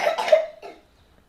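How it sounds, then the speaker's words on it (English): A sick child's short, close cough: a single harsh burst followed by a softer trailing cough, then quiet. "my son's sitting here and he's not feeling that well, so he's coughing"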